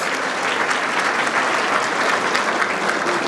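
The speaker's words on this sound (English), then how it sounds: "give a big round of applause to our hosts" Steady applause from a large audience at a town ceremony in a Ritz-Carlton venue, dense clapping that holds at an even level throughout without pause.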